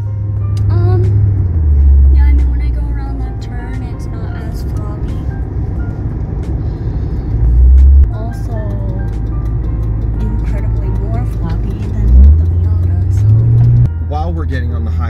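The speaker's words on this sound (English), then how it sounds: "we're going for a test drive to see how it feels" A Ford Crown Victoria P71 police interceptor with an upgraded rear sway bar cruises on a test drive, its steady low engine and road drone continuous throughout, swelling briefly a few times, with people talking inside the cabin.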